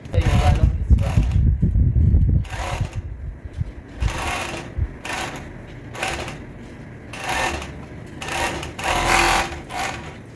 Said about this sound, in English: I'm going to overlock this round